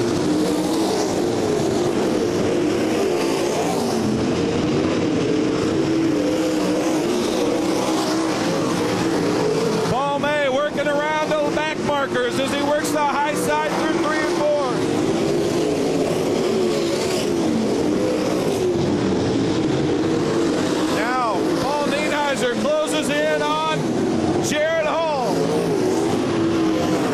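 Race cars roaring around a track during a MOWA feature race, a sustained loud engine drone with rising and falling revs as cars pass, under a commentator's announcing over the public address.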